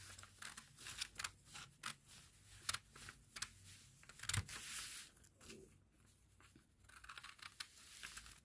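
Scissors cut through a paper sewing pattern for a princess dart bustier, a run of crisp snipping strokes in uneven rhythm with rustling paper between them, close and fairly quiet.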